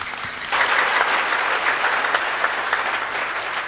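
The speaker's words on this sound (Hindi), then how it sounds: "इतने ताली में खुश नहीं होगा।" Applause from a temple fair audience, a dense wash of clapping that swells in after a brief lull and carries on steadily and loudly, with no talk over it.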